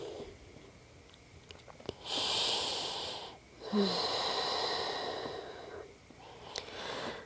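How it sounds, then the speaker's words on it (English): Slow, deep breaths during a gentle third trimester yoga session, two long audible exhalations close to the mic with quiet pauses between them. "A couple more breaths."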